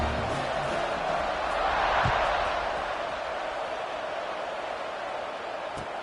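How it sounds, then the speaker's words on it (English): College football stadium crowd after a touchdown and extra point: a steady, dense roar of many voices at a distance, swelling slightly and then holding level throughout. "this crowd is buzzing after that last score"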